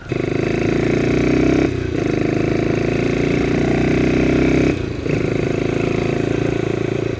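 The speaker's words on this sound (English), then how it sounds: "a glorious Ducati single-cylinder engine" A classic Ducati 350/450 R/T single-cylinder off-road dirt bike engine running loud and close, a steady thumping drone with two brief dips in revs, no speech.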